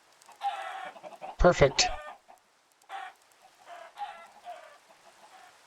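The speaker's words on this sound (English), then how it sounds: "Chickens are up there." Minecraft chickens cluck in short bursts, with one loud squawking call in the middle and a brief word spoken among them.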